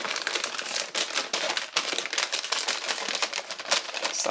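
Crisp, continuous crinkling and creasing of a thin Dollar Tree paper lantern box as its small corners are folded along their creases for a Halloween haunted house craft, close and fairly steady without pauses.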